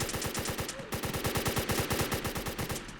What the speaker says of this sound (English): see what this gun is capable of